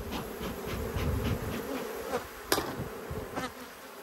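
Honey bees from an open hive during an inspection, with frames being handled and put back, give a steady close buzzing drone throughout, broken by a few sharp knocks and clicks.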